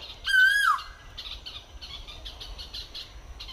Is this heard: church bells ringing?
no